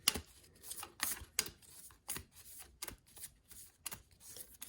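Cards riffle and slap in quick, uneven bursts, close and fairly quiet, with short pauses between shuffles.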